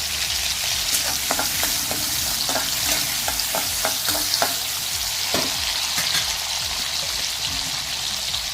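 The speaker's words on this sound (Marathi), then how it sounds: "बोंबील जे आपण भाजून घेतलेले आहेत ते स्वच्छ धुवून तेलामध्ये छान असे परतून घ्यायचे आहेत" Dried Bombay duck fish, roasted and rinsed, sautéing in hot oil in a pan, with a loud, steady sizzle throughout and scattered utensil scrapes and taps as the pieces are stirred, close up and without speech.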